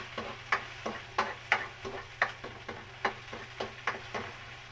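Garlic, onion and ginger sauté in a hot pan, with a soft sizzle under regular scrapes and taps of a spoon stirring, roughly two strokes per second, close and moderately loud.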